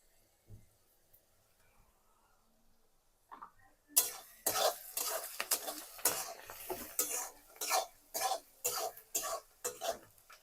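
Curd and olive oil mixed together in a bowl for a curd chicken dish, heard as a run of repeated scraping, clinking strokes close by that start abruptly after a quiet stretch.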